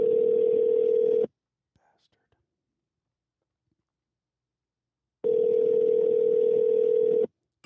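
A telephone ringback tone on an outgoing call: a loud, steady buzzing tone sounds, stops for a long silent gap, then returns for another long burst.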